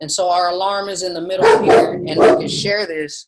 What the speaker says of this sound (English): That's my dog, you guys.